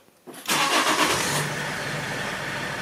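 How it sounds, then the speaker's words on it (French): A Toyota engine with a preheating fault is cranked and catches after a short pause, then settles into a loud, steady idle close by. "je coupe le moteur, je relance"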